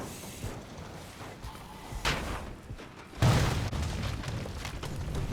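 A car explodes in PUBG with a sudden loud boom partway through, followed by sustained rumbling noise, amid game background sounds and scattered pops.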